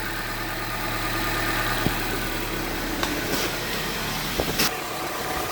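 A 2022 Honda Civic hatchback's 2.0L engine idles with a steady, even hum, heard close from under the car, with a few light clicks and knocks over the top.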